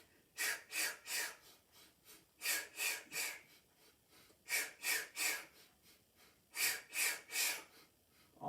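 Heavy rhythmic breathing during a Pilates exercise, close and clear, in repeated groups of three quick breaths separated by short pauses.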